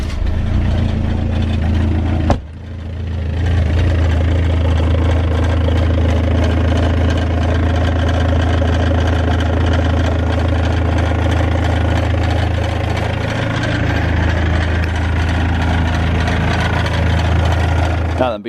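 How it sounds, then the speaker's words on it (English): BMW engine with a rattling downpipe catalytic converter and DPF, heard starting up and then idling loudly and steadily with a deep, continuous drone and a faint rattle throughout. "let's actually go ahead and get this thing fired up just so you can hear the rattle that I am"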